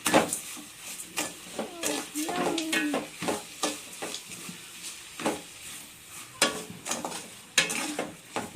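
Beetroot halwa with sugar being stirred and sautéed in a pan, a steady sizzle with repeated rhythmic scraping strokes of the spoon against the pan throughout.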